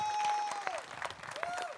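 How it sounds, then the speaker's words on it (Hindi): Audience applause at a motivational speaking event, a steady patter of clapping with a few louder claps over a faint tone, lasting under two seconds. "एक बार जोरदार तालियां यार"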